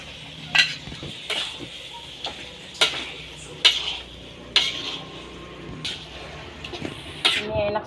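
Sambal cooks in a pan while a metal utensil scrapes and taps against it in regular strokes, about eight sharp clinks over a faint background sizzle.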